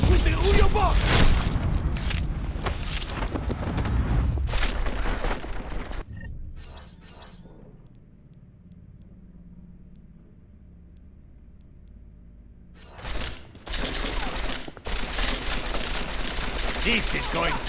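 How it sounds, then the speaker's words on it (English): Gunfire and combat noise in Deus Ex: Mankind Divided, dense and loud bursts at the start, a quiet stretch in the middle, then loud shooting returning near the end, with talk mixed in. "Someone shooting."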